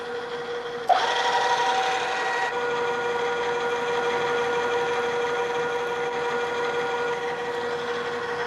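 A steady mechanical whir of a center drill cutting into metal in a machine shop, starting with a sharp onset and running continuously at close range.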